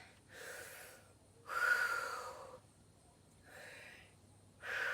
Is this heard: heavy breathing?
yes